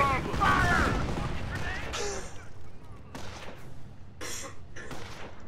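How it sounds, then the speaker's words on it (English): Rockets fired from a window during a Company of Heroes battle, several sharp bursts spaced a second or so apart, mixed with clattering combat noise while voices talk over them. "You guys fire rockets out of the window?"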